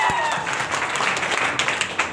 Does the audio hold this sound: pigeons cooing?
no